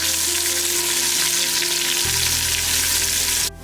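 Onions sauté in a pan for mutton donne biryani, a Bengaluru specialty. A loud, steady, close sizzle runs throughout, with a low hum that shifts partway through and a brief change near the end.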